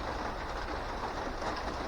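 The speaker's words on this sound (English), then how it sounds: "that rain sounds pretty good" Rain falls on a greenhouse in a soft, even hiss that stays steady and fairly quiet throughout, with no voices.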